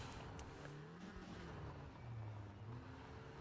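A rally car engine in WRC 5 on PC, heard from an exterior view, drones steadily with a low, faintly shifting pitch, quiet and continuous, with no voices.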